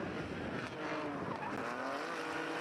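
Drift cars battle in tandem at a street drift competition, their engines roaring loud and close with tire squeal in one unbroken wall of sound.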